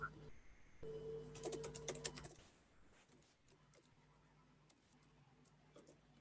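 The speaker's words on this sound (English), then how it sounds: "Yeah, I can type in." Rapid clicking of computer keyboard keys, loud and busy for the first couple of seconds, then fading to sparse, quiet taps under low room noise.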